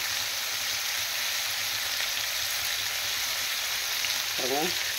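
Vegetables for chutney sauté in a pan with a constant, even sizzle, and a brief tonal sound is heard near the end.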